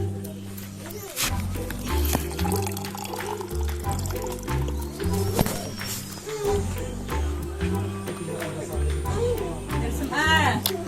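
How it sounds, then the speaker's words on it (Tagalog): Natural spring water pouring and flowing steadily at Tuba, Benguet, heard close by under continuous talk from people nearby. "Ito ang tubig."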